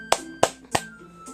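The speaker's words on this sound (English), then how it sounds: "Sayori finished and we applaud." Three sharp, evenly spaced claps or snaps followed by a softer fourth, crisp and close against a quiet tonal backdrop, in the video game Doki Doki Literature Club.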